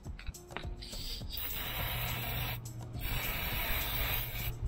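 PTFE dry lubricant sprayed from an aerosol can into the steel inner tube of an AL-KO caravan stabilizer leg: a steady, close hiss lasting several seconds over a faint low hum.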